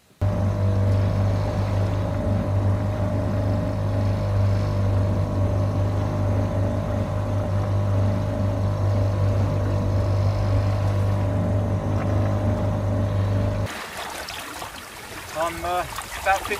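Small Tohatsu outboard motor running on a trailer-sailing boat at sea off Fraser Island, a steady loud low drone holding for about fourteen seconds before cutting to quieter water and wind sounds with brief voices.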